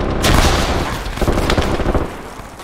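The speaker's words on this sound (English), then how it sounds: "Grenades are going off on the street behind me." Grenades exploding on a street during a firefight: dense, continuous booming blasts and gunfire-like cracks, loud and close, filling the whole stretch without pause.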